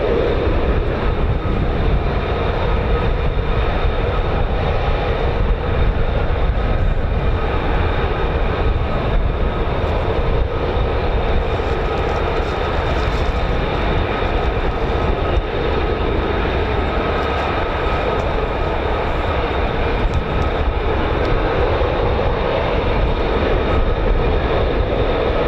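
Steady, loud roar of an F-35B fighter jet's Pratt & Whitney engine at RAF Lakenheath, a dense broadband rumble holding unbroken and close for the whole stretch with no talk over it.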